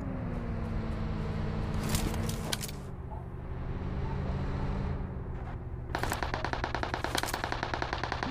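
Rapid automatic rifle fire from an M4 with red dot sight in PUBG Mobile rattles in dense bursts, first near the start, then a sustained loud volley in the last seconds, over constant game ambience.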